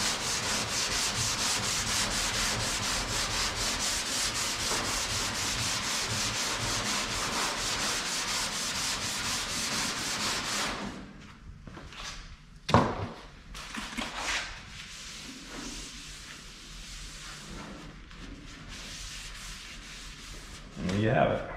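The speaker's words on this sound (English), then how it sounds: "You just keep sanding it till all the black is gone. And that's how I block sand." Block sanding primer on the body of a 1959 VW Beetle being restored, a steady loud rhythmic scraping for about ten seconds, then quieter with scattered knocks and handling sounds.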